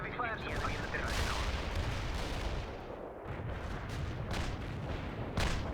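Artillery fire in World in Conflict, with a dense continuous rumble of distant blasts and repeated thuds, some louder impacts standing out, and voices faintly underneath.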